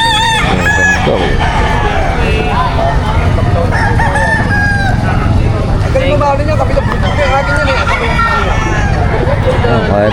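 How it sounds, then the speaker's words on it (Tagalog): Roosters and hens crow and cluck throughout a busy Friday market in Bocaue, several birds calling over one another amid crowd chatter, vehicle noise and people talking nearby. "marami pa rin manok"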